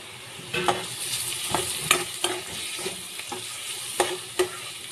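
Onions frying with turmeric in a pan give a steady close sizzle, punctuated by sharp spatula scrapes and clacks at uneven intervals, with no voices.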